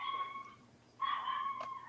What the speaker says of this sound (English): They don't normally bark, but my husband just got home.